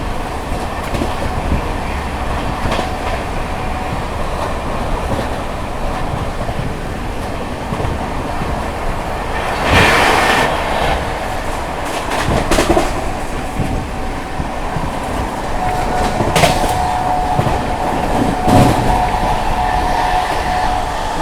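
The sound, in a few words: Andhra Pradesh Express 20805 train running, general coach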